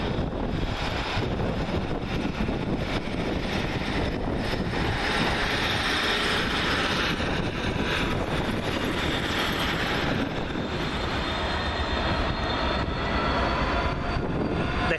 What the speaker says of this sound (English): 156448 Bram Stoker will now leave with the 1525 Northern Mail service to Preston via the Cumbrian coast